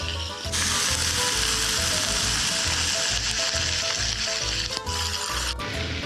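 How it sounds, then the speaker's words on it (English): Boneless meat browns in a hot pan at a campsite, a loud, steady sizzle crackling throughout with rhythmic low thumps underneath, close and without voices. "I'm gonna brown that up. That is looking amazing. So that's just browning up nicely."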